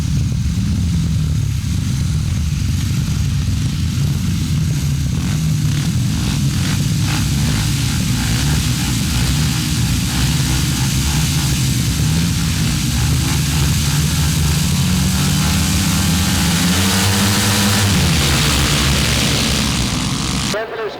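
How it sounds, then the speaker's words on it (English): Grasstrack racing motorcycles pull away at the start of a race at a 2003 international grand slam meeting. Engines drone loudly and steadily, then fade and shift near the end, and a public-address voice may sit beneath the noise. "A good start. Number 42, Glenn Phillips, had a tremendous start as he left us"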